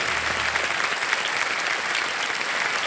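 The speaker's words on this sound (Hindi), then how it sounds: "एक बार फिर जोरदार तालियां बजाएं इनके लिए।" A studio audience on the Indian quiz show KBC claps loudly for a contestant leaving the game, a short stretch of dense, steady applause with no gaps.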